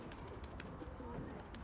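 Racing pigeons at a rooftop loft coo softly and repeatedly against steady outdoor background noise, faint and fairly close, with no one speaking.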